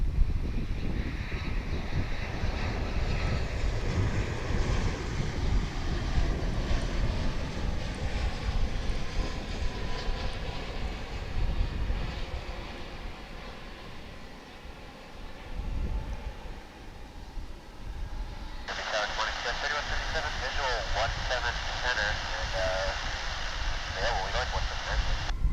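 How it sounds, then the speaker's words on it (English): An American Airlines Boeing 787-9 Dreamliner, a wide-body heavy jet arriving from São Paulo, lands at DFW airport with a loud, sustained engine roar and rumble that swells and eases, wind buffeting the microphone throughout. "It's going to be a big ol' Dreamliner 787-9 on Runway DFW."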